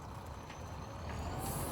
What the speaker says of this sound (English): we finally got this truck up here